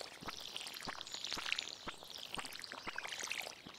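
Crops are watered in the video game Stardew Valley, a string of short splashy pours and droplet chimes repeating every half second or so, quiet and clean with no voice over them.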